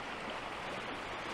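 The James River in Richmond, Virginia flows steadily at about five feet, a dense, continuous rushing of water heard alone and fairly close.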